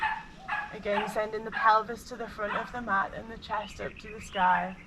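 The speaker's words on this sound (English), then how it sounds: "Sorry about that noise. It's one of the puppy." Puppy barks and yips break in briefly while a calm voice keeps speaking steadily over them during a yoga class.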